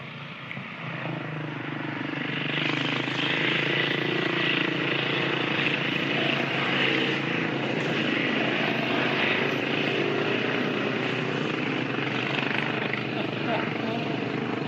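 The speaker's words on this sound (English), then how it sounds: "Every time I try to talk, there's motocrossers coming by" Motocross bikes pass by on rally day, heard as a continuous, droning engine roar from a distance that swells in the first seconds and then holds steady for the rest of the stretch.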